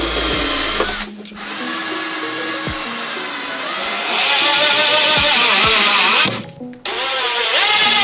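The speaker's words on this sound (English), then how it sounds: "Then, we screwed them into the furring strips with stainless screws" Power driver sinking stainless screws through plywood ceiling panels into furring strips aboard a sailboat. Close, loud whirring runs rise and fall in pitch, with brief pauses between bursts.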